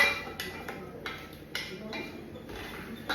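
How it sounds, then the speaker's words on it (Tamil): Pieces of cooked mutton tipped into a biryani pot, giving a run of soft clinks and scraping knocks of metal utensils against the vessel at an even pace, close by under low kitchen background hum. "அந்த மட்டனை நம்ம இப்போ வந்து சேர்க்கலாம்"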